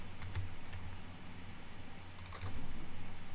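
Rapid mouse clicking at a computer while playing Train Sim World 2, a few sharp clustered clicks near and clear over a low steady hum, with a tight burst of clicks late on.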